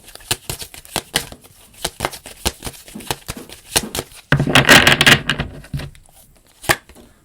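Tarot cards being shuffled up close in a quiet room, a steady run of sharp riffling snaps followed by a denser, louder burst of shuffling and a final lone slap of cards.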